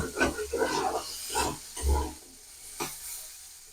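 Bean seeds dry-frying in a wok, a quiet hiss broken by a handful of irregular pops and rattles as seeds jump, fading toward the end.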